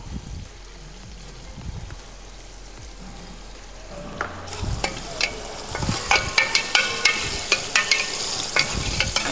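Onions fry in a pan for Ramadan nombu kanji, a soft sizzle that grows as a spoon stirs them with repeated scraping strokes, close and fairly quiet.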